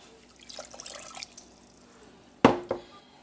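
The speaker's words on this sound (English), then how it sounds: "I'm gonna be also adding some water." Water poured into a pan of sugar for homemade creme caramel, heard as two brief, close splashy bursts after a quiet stretch with faint kitchen clatter.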